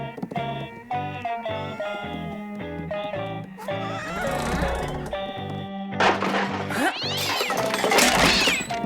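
A house cat meows amid bright cartoon music with harmonic tones, set in a mountain holiday scene; the calls rise over the steady score and grow busier toward the end.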